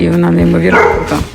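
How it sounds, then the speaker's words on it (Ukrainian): A pet dog barks in the background of a home recording, a few short yaps under close, continuous speech from someone talking over it. "Так, це моя собака тут зі мною погоджується на фоні."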